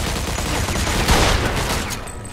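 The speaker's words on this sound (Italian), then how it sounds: "Mi stanno sparando, porca puttana!" Rapid, loud gunfire in the video game Mafia II, a dense burst of overlapping shots with a sharper crack in the middle before tapering slightly.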